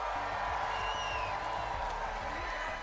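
A live crowd roars at the Fortnite FNCS Global Championships in Fort Worth, a dense, steady wash of cheering that fills the whole moment over a thumping low beat.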